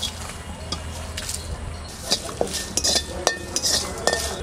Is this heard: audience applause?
no